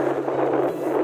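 Wind buffets a microphone during a ride from Peñaranda to Minalungao, Nueva Ecija, in a steady, rumbling rush with a low hum underneath, continuous and close for about a second.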